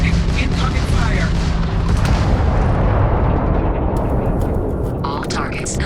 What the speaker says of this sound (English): Warning, warning, incoming fire.